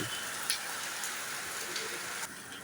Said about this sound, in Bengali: অঝোর বৃষ্টি